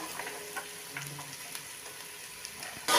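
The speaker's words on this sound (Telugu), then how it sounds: "కొంచెం దోరగా వేయించుకోవాలంటే కరివేపాకు ఇంకా సన్నంగా తరిగిన క్యారెట్ ముక్కలు" Curry leaves and finely chopped carrots fry in a pan with a soft, steady sizzle and occasional stirring clicks, heard up close.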